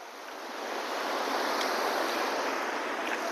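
Sea waves at Aare Ware beach in Ratnagiri make a steady, broad wash of surf that swells at first and then holds evenly loud, with no voices.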